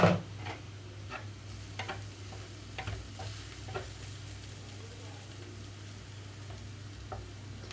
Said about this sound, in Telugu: ఐదు నిమిషాల తర్వాత మధ్యలో ఒకసారి కలుపుకుంటున్నాను